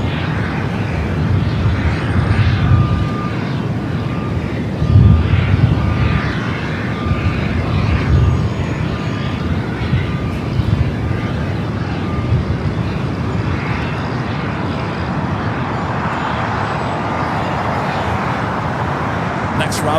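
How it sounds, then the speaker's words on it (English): An Air Canada Airbus A220-300 jet arriving at LAX on the north side, a steady broadband engine roar that holds for the whole stretch with a slight swell early on, set against distant airport and road traffic. "Air Canada Airbus A220-300 arriving there on the north side."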